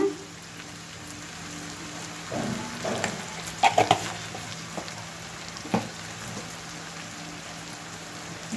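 Broad bean pods frying in a pan as turmeric goes in, a steady hiss and crackle of hot oil throughout with a few sharp clinks and taps over it.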